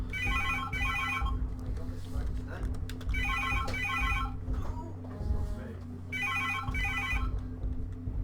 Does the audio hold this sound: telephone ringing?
yes